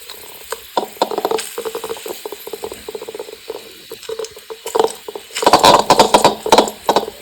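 Garlic cloves fry in a pan with a busy crackling sizzle of irregular pops and bursts, growing denser and louder near the end.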